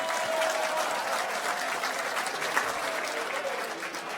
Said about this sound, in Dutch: een groot applaus dat daar gaat